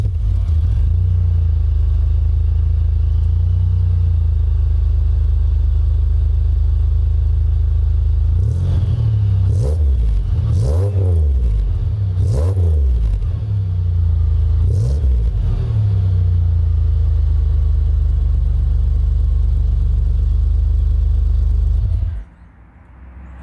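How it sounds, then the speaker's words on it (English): Deep, rumbling exhaust of a 1999 Pontiac Grand Prix GTP V6 with headers, factory exhaust and Magnaflow muffler idles steadily, with several throttle blips revving the engine in the middle before it cuts off at the end. "So this will be a 99 GTP with Speed Daddy headers, factory exhaust, and magnifoil muffling."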